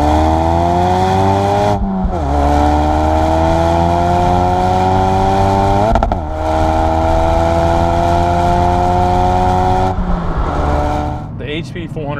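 A Ford Focus RS fitted with the Hennessey HPE400 package pulls hard under acceleration, its engine note climbing steadily in pitch through long gears, with brief dips at no-lift shifts from third to fourth, loud and close from inside the cabin.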